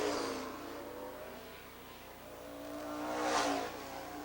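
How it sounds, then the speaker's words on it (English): Race cars running side by side at Rockford Speedway during a 1996 championship night, engines droning steadily then swelling louder as they pass, distant and blurred as if recorded from the stands. "They're now side by side going into turn number 3."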